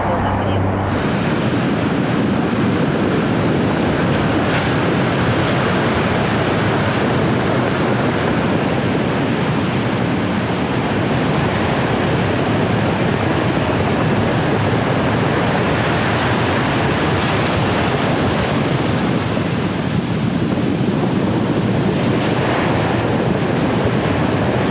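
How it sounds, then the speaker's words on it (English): Ocean surf along the Pacific Coast Highway, breaking against and eating away at the asphalt roadway, a loud, continuous broadband roar with rolling swells and wind buffeting, no voices. "Pretty crazy footage out there with the ocean taking the asphalt out"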